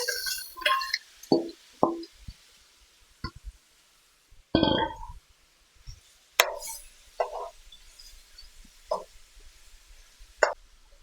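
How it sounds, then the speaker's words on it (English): Pieces of oxtail drop one after another into a pot with two tablespoons of hot oil, making a series of separate plops and thuds with faint sizzling between them, close and moderately loud, with no talk. "Now I'm going to add the oxtail,"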